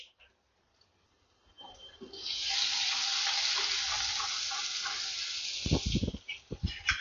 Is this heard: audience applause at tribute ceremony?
no